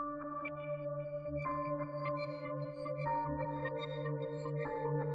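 Synth key chords processed with stereo enhancer, crystallizer and the Portal chaos preset shimmer and flutter with glitchy, shifting movement, changing chord around the midpoint and playing steadily throughout with no voices.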